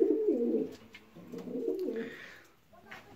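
Pigeons coo in a loft during breeding season, with close, soft, low rolling coos repeating in a few phrases, followed by a quieter pause.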